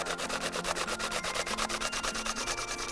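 Courgette (zucchini) is pushed over a metal grater in a fast, even rhythm of rasping strokes, close up and continuous for a few seconds.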